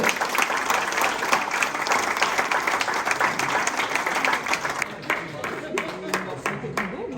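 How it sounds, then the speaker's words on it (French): Sustained crowd applause at an outdoor political rally for an outgoing deputy, dense clapping that thins toward the end as a voice starts speaking. "Donnez un applaudissement s'il vous plaît."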